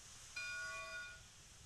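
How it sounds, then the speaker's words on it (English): A steam locomotive's bell in the video game Railroads Online gives one clear, sustained metallic ring that lingers and fades over a quiet hiss. "that bell just rings forever"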